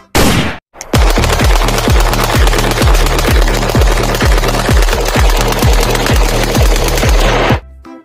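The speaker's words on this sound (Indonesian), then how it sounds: "ternyata ada tembak-tembakan juga. Wow, ini AK-47." Rapid bursts of toy AK-47 automatic-rifle fire, a steady rattling stream of sharp electronic shots that runs loud and continuous for several seconds before cutting off.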